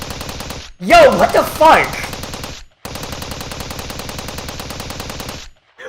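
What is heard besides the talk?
gunfire in the video game Steins;Gate 0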